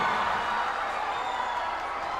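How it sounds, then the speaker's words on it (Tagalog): Basketball crowd noise in a gymnasium at an Ako Bicol Cup game between Libon and OAS, a dense steady roar of cheering voices held at an even level throughout. "I just love the reaction of the crowd."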